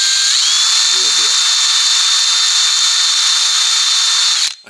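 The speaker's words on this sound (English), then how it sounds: "you're drilling glass" A drill bit spins into glass, a steady high-pitched whine that holds for about four seconds and then cuts off abruptly, loud and close, with a brief low murmur near the start.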